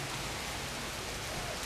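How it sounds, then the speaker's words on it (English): Light rain from the edge of Cyclone Kimmy, a tropical storm, falls as a steady, even hiss that fills the whole moment with no breaks or other sounds. "it is raining, but not raining heavily"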